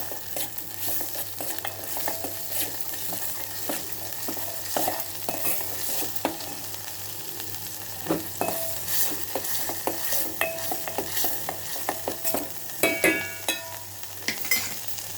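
Ingredients for buttermilk rasam sizzle steadily in a hot pan as they fry toward golden, with frequent spoon scrapes and stirring clatter, busier near the end; close and continuous with no talk.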